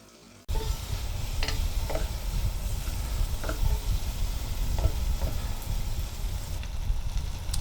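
Aleppo chilli flakes and peppers fry in a pan with a steady, close sizzle that starts abruptly and carries on throughout, broken by a few light clicks from stirring.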